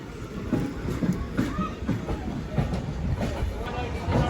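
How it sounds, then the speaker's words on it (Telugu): A cargo train rolls past at a station, a steady low rumble with rhythmic wheel thumps and clanks sustained throughout, close and fairly loud. "కార్గో బండి ఏదో వచ్చింది."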